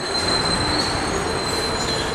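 An elevated L train rolls along a New York street overhead, a steady loud rumble of wheels and cars with a thin high squeal running throughout, close and continuous with no talk.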